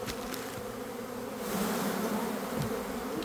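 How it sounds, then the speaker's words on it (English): Honey bees buzz densely around an open hive during a colony split, a constant close drone that swells slightly midway, with no voices. "Look how many bees there are."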